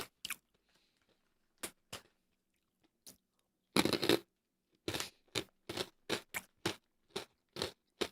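Crunchy yuzu-flavored snack being bitten and chewed up close, a run of sharp, dry crunches in quick bursts separated by short pauses, with no talking.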